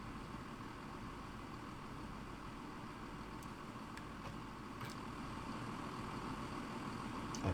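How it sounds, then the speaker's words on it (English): The diesel engine of a Class 170 train idles in Train Sim World 5 as a faint, steady, low rumbling drone. It runs continuously with a few tiny clicks and no talking. "because I like being able to hear what the engine's doing"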